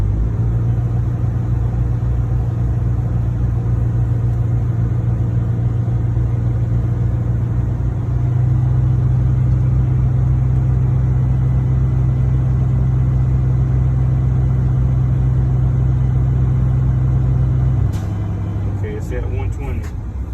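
A truck's diesel engine idles steadily in neutral with the brakes set while building air pressure, a low constant rumble that steps up in pitch midway and drops near the end, with faint clicks.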